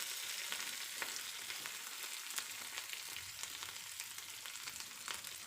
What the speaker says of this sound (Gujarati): હવે પાઉને આ રીતે શેકી લઈશું જેથી પાઉમાં પણ પાઉભાજીનો ખૂબ જ સરસ ટેસ્ટ આવે